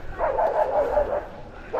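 A dog barks and yips repeatedly as it chases a car near a hillside viewpoint in Jhorepokhri in the Darjeeling hills. The barks come in a fairly steady run at moderate volume and pause briefly near the end.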